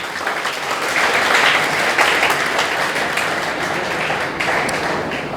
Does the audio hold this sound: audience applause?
yes